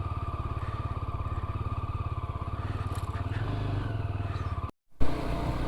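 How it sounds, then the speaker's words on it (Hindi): Motorcycle engine thumping in a fast, steady rhythm while riding on a cold morning with a bike that keeps stalling; the rumble runs close and loud, then cuts out briefly before resuming. "तो ये बहुत बार बार बाइक मेरा बंद हो रहा है।"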